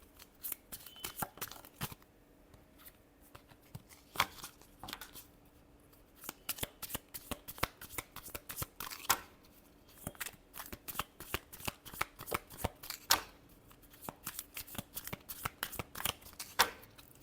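Tarot cards shuffled by hand in a quiet room, a long run of crisp riffling bursts and soft slaps repeating at an uneven pace, close and fairly faint, with no voices.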